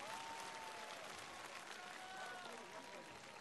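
Applause from an open-air festival audience welcoming a singer on stage, a quiet, distant, continuous patter of clapping with faint voices mixed in.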